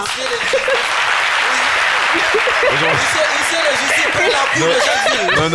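Audience applause at a televised Ivorian sports show, a steady dense wash of clapping across the whole stretch, with voices and some laughter mixed in beneath it.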